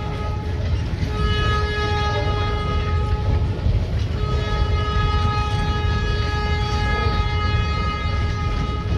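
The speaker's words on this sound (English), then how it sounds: "Looks like a pretty long train today." A long freight train rolls steadily past a railroad crossing, a loud continuous rumble of wheels and cars with sustained horn-like tones sounding throughout, close and without any voices.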